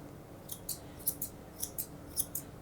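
A steady run of about ten light scissor snips, crisp and close, coming in pairs and singles over quiet room noise, as scissor tips trim a dog's hair straight across.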